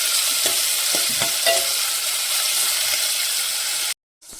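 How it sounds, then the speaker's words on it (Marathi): Onions fry in a pan for a Malvani kaleji masala, giving a loud, close, steady sizzle broken by a few scraping stirs, with no talk, then cutting abruptly to near silence at the end. "कांदा कांदा लाल होईपर्यंत भाजायचा कांदा"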